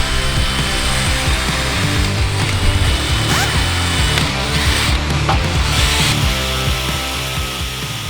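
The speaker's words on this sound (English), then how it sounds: "we're basically drilling a hole between the crank balancer and the crankshaft itself" A power drill bores a hole between a Dodge Hellcat's crank balancer and crankshaft, running continuously for several seconds with a steady whirring grind and clanking mechanical noise, loud and close.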